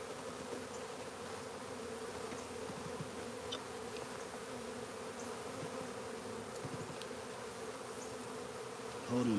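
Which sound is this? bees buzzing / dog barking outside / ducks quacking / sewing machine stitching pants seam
bees buzzing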